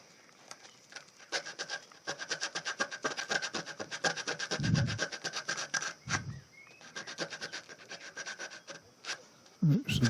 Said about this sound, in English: Could use a tiny file, but I'm just going to use sandpaper.